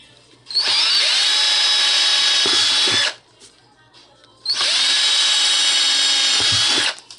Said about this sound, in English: you just drill. Make sure you have a good drill.